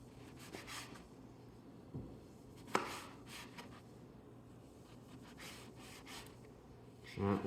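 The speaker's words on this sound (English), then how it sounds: "I like to cut it down the middle." Knife cutting through a tomato for tacos on a board, a few soft crisp chops and scrapes, faint and close, with a sharper tap partway through and a brief clatter at the end.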